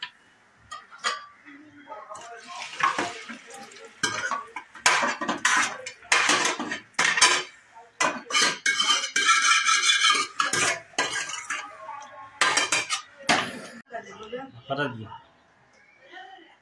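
Mutton is tipped into a pot and stirred with a metal spoon for a spicy mutton curry, giving bursts of scraping, clinking and light sizzle while someone talks over the cooking.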